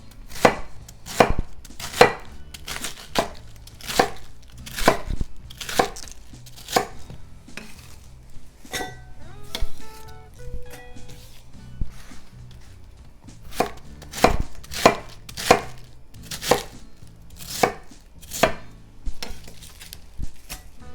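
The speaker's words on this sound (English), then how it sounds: "Then I'm going to cut that into 1/2-inch strips." A knife chops cabbage into half-inch strips on a cutting board, sharp regular thuds in quick bursts with short pauses between runs, close and alone without talk.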